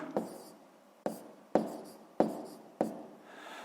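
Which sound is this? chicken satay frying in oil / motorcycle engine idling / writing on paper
writing on paper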